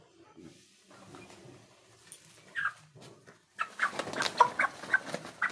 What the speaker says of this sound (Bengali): এবার আমি মুরগিটা মাপতে চলেছি